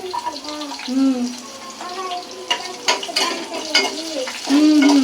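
Cumin, mustard seeds, dried and green chillies and garlic fry in hot oil in a pan, giving a steady sizzle and crackle that swells and fades with stirring, while a voice talks over it.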